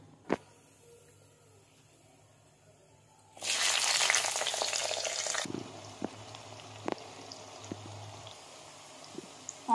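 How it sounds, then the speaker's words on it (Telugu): Sliced onions hit hot oil in a pan for a Telugu chana dal curry, a loud sizzle bursting in partway through, then settling into a quieter fry with small pops and clinks. "ఇప్పుడు ఇందులోకి ఆనియన్స్ వేసుకున్నాను."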